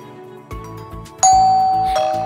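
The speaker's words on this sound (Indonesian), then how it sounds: "Siapa yang membunyikan bel pintu?" A cartoon doorbell rings with a bright two-tone chime, sounding after some soft rustling and followed by a lingering ring that fades slowly.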